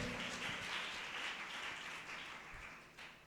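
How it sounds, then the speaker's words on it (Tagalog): Congregation applauding at a church service, a faint, distant wash of clapping that holds steady and then slowly fades toward the end. "Yung malakas na palakpak para sa Diyos."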